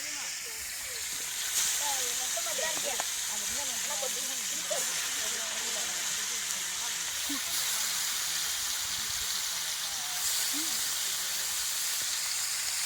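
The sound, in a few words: theli fish frying in oil, sizzling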